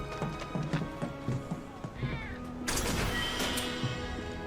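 A cat meowing in Final Fantasy 7 Remake, several short mews and a longer plaintive call over game sounds with clopping footsteps and ambient music.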